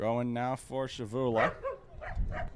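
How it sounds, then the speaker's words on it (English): Dog barking and yelping near a men's soccer match, several sharp close barks in the first second and a half, heard alongside a commentator's voice that continues over the field noise. "We apologize for the dog that you may hear"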